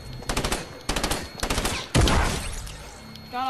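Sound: sniper rifle shots in a video game

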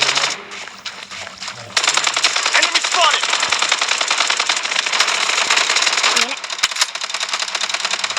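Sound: gunfire in the video game Blood Strike

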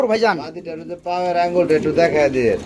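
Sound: pigeons cooing at a pigeon sale

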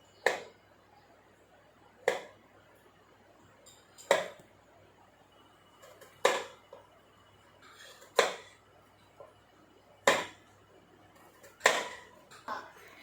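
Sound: knife cutting papaya into small pieces

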